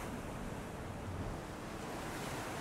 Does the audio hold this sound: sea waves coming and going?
yes